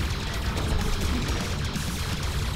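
Rapid gunfire from the run-and-gun video game Iron Meat, a continuous dense barrage of shots and blasts at steady loudness with no pauses.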